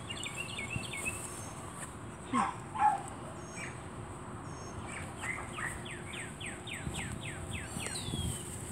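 A dog at an animal shelter gives two short, fairly faint barks outdoors, set against steady insect buzzing and repeated bird chirps in the background.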